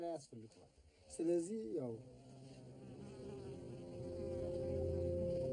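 Honeybees buzzing around about twenty beehives behind a small farm in Ethiopia. A steady, close insect drone builds and holds, with a brief voice-like sound near the start.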